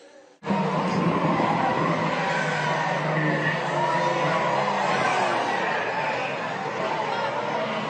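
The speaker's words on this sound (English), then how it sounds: "into the barriers from the mid-order of the grid go a couple" Race cars skid with tire squeal and crash into barriers at the start of a race, a loud continuous roar of cars and crowd mixed with commentary talk.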